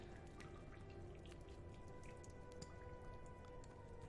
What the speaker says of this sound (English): I hear water dripping.